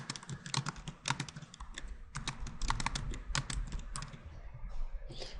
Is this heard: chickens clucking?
no